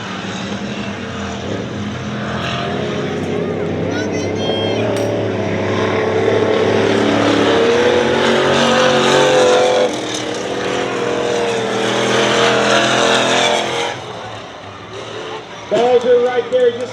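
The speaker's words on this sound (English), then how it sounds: "Balzer right there just gets passed by number 97, Scott." Race cars roar around a dirt raceway in a loud, continuous engine drone that rises and falls as they pass, with a race announcer talking over it throughout.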